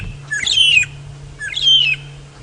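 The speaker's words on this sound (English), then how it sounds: "There it is, the red-billed hornbill." A red-billed hornbill calls twice in close succession on a safari drive at sunset, each call a bright, sharp, slurred squawk heard up close over a low steady hum.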